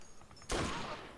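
A sudden gunshot burst rings out in a retro video game, a loud sharp blast after a quiet moment, then a ringing noisy tail.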